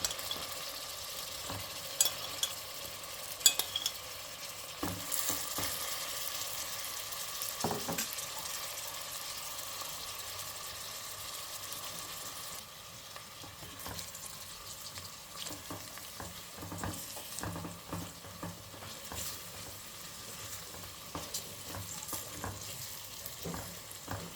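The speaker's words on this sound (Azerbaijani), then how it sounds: "kənarda bişirdiyim ətləri də bura əlavə edib bir dəqiqə soğanla bərabər qovururam" Steady sizzling and crackling of meat frying with onions in a pan for bozbash, with occasional stirring scrapes and no talking.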